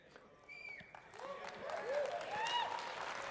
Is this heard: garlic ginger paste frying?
no